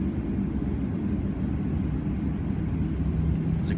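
Cabin of a Delta Boeing 737-900ER as it starts its takeoff on the runway: a steady, loud broadband engine roar holds for the full stretch, with no talk over it.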